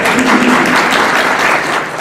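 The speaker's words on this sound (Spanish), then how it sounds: "Recibamos con un cordial aplauso al doctor Esa Sánchez." An audience at a legal conference of a justice ministry greets a speaker with a short, loud burst of close, dense applause from many hands, fading slightly at the end.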